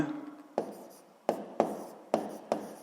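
A pen writes a physics formula on paper: five sharp, close strokes land at uneven intervals, each starting with a crisp tap and trailing off, with no voices.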